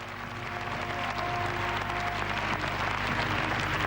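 Sustained applause for director Andrei Zvyagintsev at the Venice film festival, a dense steady wash of many hands clapping at even loudness throughout, with a faint tonal hum underneath.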